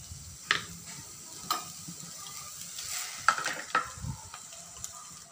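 Ground tomato paste added to a frying pan for a chickpea kurma gives a soft sizzle with stirring scrapes and a few sharp clinks of a utensil against the pan, close and fairly quiet with no talking.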